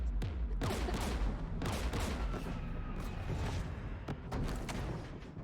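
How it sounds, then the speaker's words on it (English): Dense, sustained volley of gunfire from anti-aircraft guns installed beside a jamming tower in a sci-fi video game battle, overlapping booms and sharp cracks rolling continuously for several seconds with a heavy low rumble. "We're taking fire."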